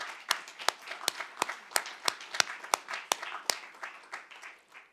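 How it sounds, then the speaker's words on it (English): Audience applause at a closing plenary session of a roundtable, a steady crowd clapping with sharp individual claps standing out, moderately loud and continuous for several seconds before fading slightly, with no talking. "Let's please give them another round of applause."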